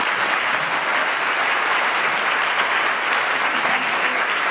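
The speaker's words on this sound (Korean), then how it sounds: "우리 권사님을 위해서 마음에서부터 우러나오는 힘찬 박수를 부탁합니다" Steady, dense applause fills a church hall as a congregation claps for a deaconess, a loud, even wash of many hands without pause or voices.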